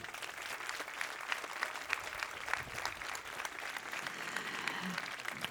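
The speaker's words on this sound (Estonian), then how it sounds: "Ka neile aplaus." A school spring concert audience applauds a girls' children's choir, continuous dense clapping from a large crowd with slight swells, moderately loud and steady with no talk over it.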